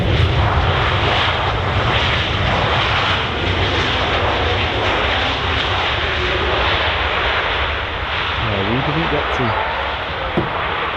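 Airliner taking off at Manchester Airport, a steady broadband engine roar that holds loud throughout with slight swells, while people talk over it near the end.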